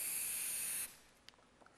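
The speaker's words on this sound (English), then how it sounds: "So if I use the Polyfilla spray," A can of Polyfilla quick-drying filler spray gives one steady, close hiss lasting under a second, then cuts off, leaving a few faint clicks in the quiet.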